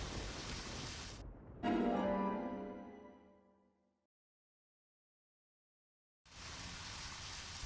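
Steady hiss of rain falling in the video game Deadly Premonition, loud and broadband, broken by a brief gap and a lull where the sound drops to silence before the downpour returns.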